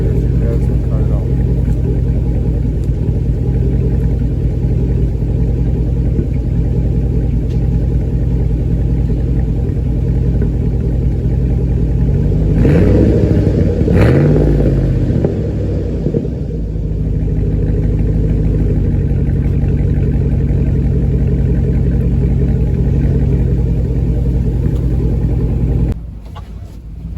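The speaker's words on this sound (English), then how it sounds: "So you can hear that rumbling a little bit right there" A 2010 Chevy Avalanche LT with a muffler delete idles with a deep, continuous engine rumble, loud and close, swelling briefly mid-way, with someone talking over it.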